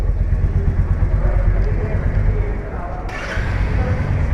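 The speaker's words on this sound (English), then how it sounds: "I'll just switch it on and you can listen to the exhaust note." A Royal Enfield Meteor 350 motorcycle idles with a low, steady, bassy exhaust rumble, close by, while someone talks over it.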